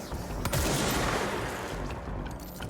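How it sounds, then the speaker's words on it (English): Gunfire in the video game Control, a dense run of shots crackling through a busy mix of game effects, loud and sustained for a few seconds. "Unfortunately, gotta shoot you with one of these."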